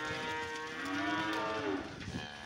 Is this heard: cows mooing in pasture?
yes